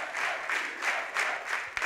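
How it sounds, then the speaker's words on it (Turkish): Brief audience applause for the mayor at a cultural centre gathering in Turkey, rhythmic clapping with pulsing, fairly distant, moderate-level claps. "Lütfen başkanımızı hep beraber bir alkışlayalım."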